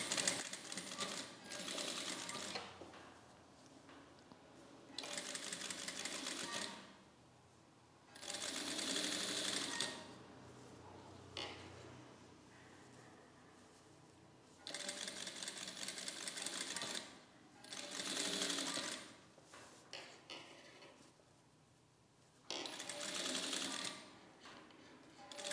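A domestic sewing machine stitching a curved sleeve onto a dress runs in repeated bursts of a few seconds each, with short pauses between runs, close and steady, and no talking.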